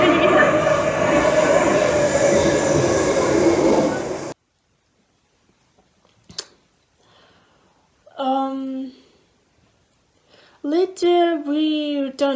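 A Moscow subway train rides with a loud, steady rumble and rattle for about four seconds. It cuts to near silence, then brief voices follow.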